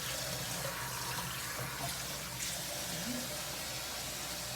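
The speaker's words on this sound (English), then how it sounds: "just let the water make sure it's coming all the way through" Tap water runs steadily into a sink during sink decontamination, a continuous splashing hiss that carries through the whole stretch with no talk over it.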